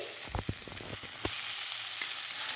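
Spice paste of ground poppy seed and cashew drops into a hot pan for a drumstick and potato vegetable curry, giving a few sharp spits and crackles over a steady, moderate sizzle with no talking.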